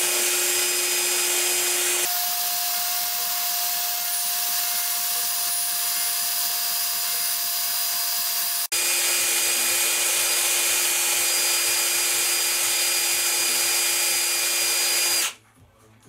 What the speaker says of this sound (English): Spin the drill.